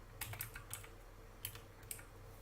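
Keystrokes on a computer keyboard come in short irregular bursts of crisp clicks, close and fairly quiet, with no talking.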